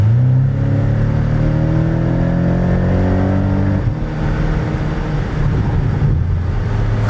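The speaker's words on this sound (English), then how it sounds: "the crackles coming from that exhaust were rather nice" A Porsche 718 Cayman GTS four-cylinder engine accelerating hard from the cabin, loud rising revs through one gear, a sharp shift, then a deep drone that climbs again, with rough rumble and crackle around the change.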